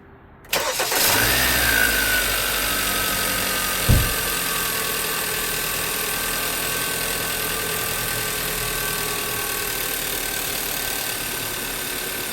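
A 2013 Hyundai Santa Fe engine cranks and catches, then settles into a steady, loud idle close by with a faint knock, and a brief thump comes a few seconds in.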